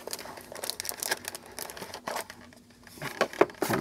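A 2019 Panini Impeccable Football card pack being torn open, close crinkling and crumpling of the wrapper in irregular bursts with a brief quieter pause, no voices heard.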